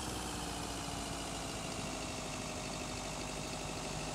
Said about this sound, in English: we have very low, very unrealistic sounding engine samples